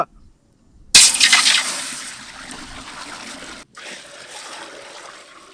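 Water is poured into a cooking pot for foxtail millet rice in a village kitchen, a sudden loud splashing gush that settles into a steady, softer stream running for several seconds with no talk.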